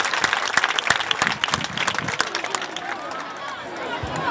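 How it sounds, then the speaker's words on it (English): A crowd at a Gambian presidential inauguration event applauds, with dense clapping that is loud at first and then thins out, with voices and murmuring mixed in. "The king is giving a round of applause."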